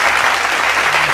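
Dense audience applause at a singing contest finale, a continuous loud wash of many hands clapping.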